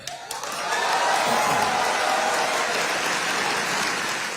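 Applause from an audience for PM Modi in France swells after a brief pause and holds as a broad, even wash of clapping.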